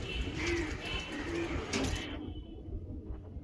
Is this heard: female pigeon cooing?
yes